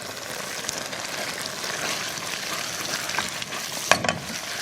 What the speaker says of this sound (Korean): 달달 볶아주는 거예요.